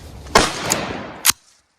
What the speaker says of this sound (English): we're gonna try my first shot with the Cali key today